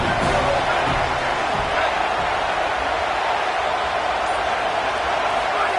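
A packed football stadium crowd roars and cheers in a dense, continuous wall of sound throughout, with a commentator faintly audible beneath it.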